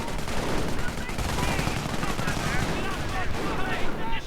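Dense machine gun fire and scattered gunshots crackle continuously in a World War II real-time strategy game battle against a mortar emplacement, with a voice faintly audible under the din.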